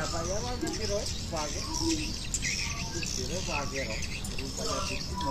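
Swiftlet mating call played back in the rainy breeding season, with repeated chirping and twittering bird calls layered over a dense, steady background hiss, fairly loud and continuous throughout.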